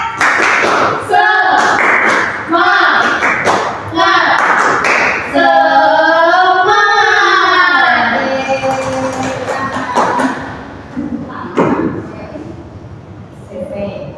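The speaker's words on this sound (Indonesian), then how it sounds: "Tepuk semangat." Children in a sixth-grade class clap out a rhythmic spirit chant, sharp patterned bursts of hand claps alternating with a teacher's voice and group chanting in Indonesian.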